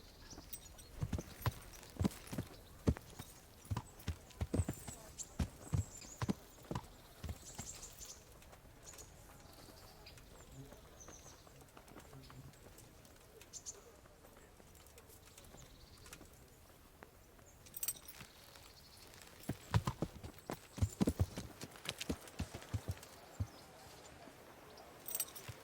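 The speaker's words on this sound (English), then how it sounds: "Get your horses mounted up and let's ride out." Horses' hooves clip-clop as mounted riders set off in a video game, sharp irregular clusters of hoof strikes at the start and again near the end, with quieter ambient birdsong and faint movement between.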